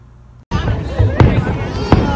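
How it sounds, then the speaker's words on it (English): Fireworks over the Christmas boat parade at Marina del Rey, California, burst in abruptly after a brief hush, then crackle loudly, with two sharp nearby pops over a background murmur of crowd noise. "That's the fireworks for the boat parade in Marina del Rey."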